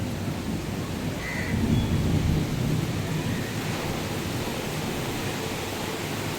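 Thunderstorm with heavy rain at a beach in Pondicherry: a steady, dense roar of rainfall with a low rumble that swells briefly near the middle, continuous throughout and with no voices.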